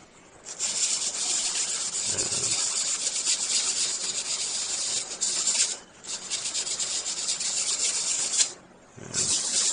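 Steady, hissy scraping of sandpaper scuffing a plastic surface, sustained for several seconds with two brief pauses, close and loud.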